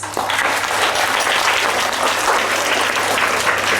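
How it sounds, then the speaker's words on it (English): Children at a Class 3 school assembly clap for themselves in a brisk, steady round of applause. It stays loud and even for nearly four seconds, with no talking over it. "Let's all clap for ourselves."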